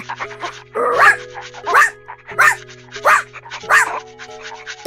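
A dog barks five times in a steady rhythm, loud and close, with a faint steady hum underneath.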